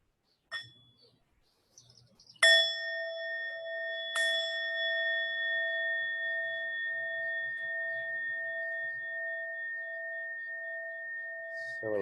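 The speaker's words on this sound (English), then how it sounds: "And at the sound of the bell, we'll bring this meditation to an end." A meditation bell rings out clearly in a quiet room, one soft strike followed by two louder strikes, each leaving a long, steady ringing tone that sustains and slowly pulses for several seconds.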